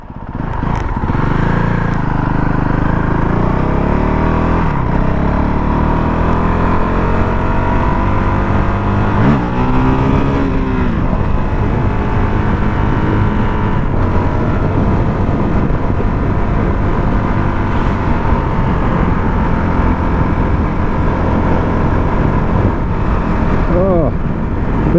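A Honda CRF450 dirt bike engine revs hard while riding, a loud, steady droning roar with rising and falling pitch sweeps as the throttle changes, close and continuous throughout.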